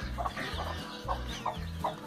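A hen that has just left her nest, now with three chicks, clucks in short repeated bursts at a steady rhythm, fairly close, over low background rumble, with no talking.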